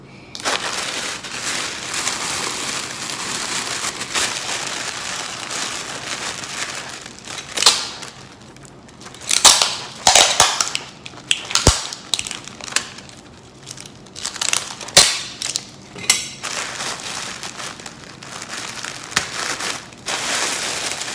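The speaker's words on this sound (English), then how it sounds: "fold it like this and go ahead and just tape it just a little bit" A shipping package is folded and taped by hand, giving close, crinkly crumpling and rustling of paper or plastic mailer material, with a few sharp crackles and tape pulls scattered through.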